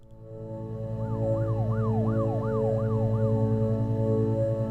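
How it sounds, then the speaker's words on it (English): Wailing emergency siren in the video game Her Story, rising and falling in a steady repeating sweep over a continuous low hum, clear and alone. "I just heard a siren"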